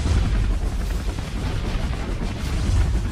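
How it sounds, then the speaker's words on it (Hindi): Rocket fired from a rocket-firecracker jeep in a Hindi cartoon, a continuous dense roaring blast of fire and rumble filling the whole stretch, loud and close. "लंबू अपनी रॉकेट पटाखा जीप से रॉकेट फायर करता है"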